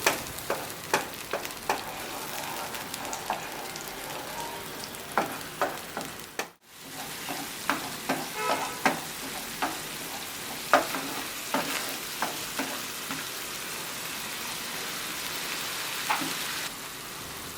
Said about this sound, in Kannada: ಇದನ್ನು 2-3 ನಿಮಿಷ ಹಸಿ ವಾಸನೆ ಹೋಗೋವರೆಗೂ ಚೆನ್ನಾಗಿ ಫ್ರೈ ಮಾಡ್ಕೋಬೇಕು